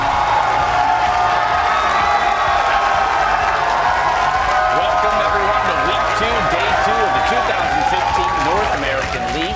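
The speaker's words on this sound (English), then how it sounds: "The crowds are going wild here in Los Angeles" A League of Legends Championship Series Spring Split crowd in a Los Angeles esports arena roars and cheers continuously throughout, under someone commentator talking over it.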